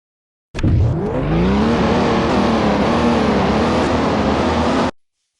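BMW race cars in a mobile racing game at Woodlea, a steady roar of engines revving and accelerating with rising pitch sweeps, loud and continuous with faint tire noise, no voices.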